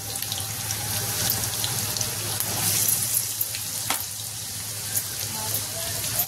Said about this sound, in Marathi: कांदा छान भाजून घ्यायचा आहे।